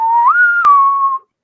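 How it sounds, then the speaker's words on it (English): A single clear whistled tone from a video game playing in the background, rising slightly then holding steady for about a second with a brief click partway through, with no talking over it. "I do not know what the whistling is."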